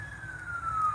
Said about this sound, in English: Man, the sirens at this campsite. Way too close to the road.